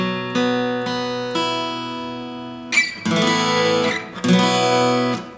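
Acoustic guitar playing a pre-chorus chord with the top two strings left open, struck and let ring several times in a steady rhythm, then strummed more fully, played close and alone without talking.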